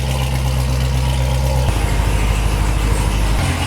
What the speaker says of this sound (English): There's a cold start on a Z06.